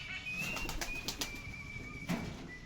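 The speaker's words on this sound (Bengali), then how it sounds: "এই দেখো পায়রাগুলো খাচ্ছে কি সুন্দর।" Pigeons feeding on scattered grain outdoors, a flurry of wing flaps and shuffling close by, with a thin steady bird tone and a sharper flap near the end.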